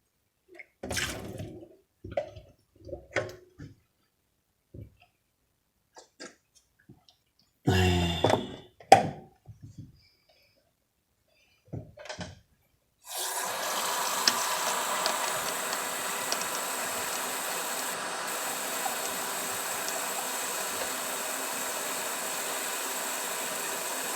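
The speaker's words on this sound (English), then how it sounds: "why waste this water? I'll just pour it in my cup." Water being poured into a cup in a home kitchen while cooking dry beans: scattered knocks and clatter come first, then a long, steady rushing pour that runs continuously to the end, close and fairly loud.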